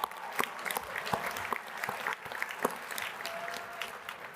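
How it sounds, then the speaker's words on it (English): Applause from the audience at an addiction-recovery convention's opening general session, a steady patter of many hands with a few sharper claps standing out, moderately distant and filling the room without speech. "so here's my applause"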